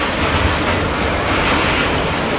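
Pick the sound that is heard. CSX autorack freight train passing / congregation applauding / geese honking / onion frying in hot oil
CSX autorack freight train passing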